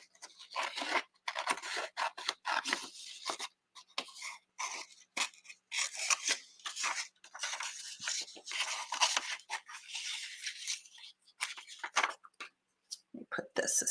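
Scissors snip through paper collage pieces cut from stamped book pages, a run of close, dry, irregular cuts and rustles with short pauses between strokes.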